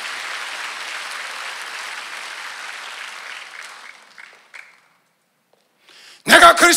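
A congregation's applause fills a Sunday church service, then thins out and fades into silence before a sudden loud sound bursts in at the end.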